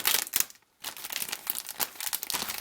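A plastic bag holding parts for a 1/25 scale 1941 Plymouth Coca-Cola model kit is cut open, giving close, bright crinkling and rustling with one brief pause early on and no talk.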